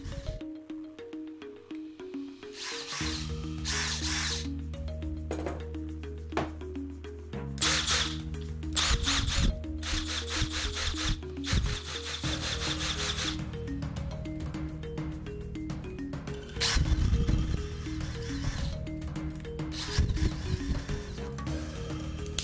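Brushless cordless drills from DeWalt and Milwaukee run at their lower speed setting, a close, layered motor whine with shifting pitch, intermittent clicks and bursts of grinding through a long continuous stretch.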